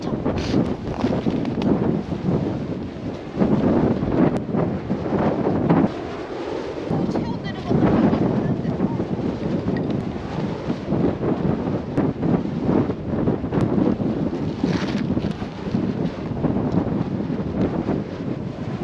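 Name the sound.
strong wind on a snowy mountain ridge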